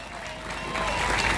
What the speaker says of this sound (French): Merci d'applaudir très fort